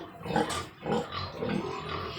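A mother pig, a sow among livestock for sale, grunts and oinks in several throaty bursts at close range, continuous and fairly loud with no clear speech.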